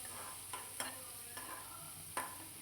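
A chopped large onion sautés in a pan for white sauce pasta. A spatula scrapes and stirs in a few distinct strokes over a faint, steady sizzle, with no voices.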